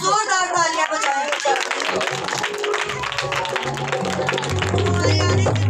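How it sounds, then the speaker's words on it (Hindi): A congregation claps loudly at a Christian healing meeting in Pakistan. The steady, dense clapping runs throughout, mixed with voices and music. "उसके पाक रूह के लिए जोरदार तालियां बजाएं"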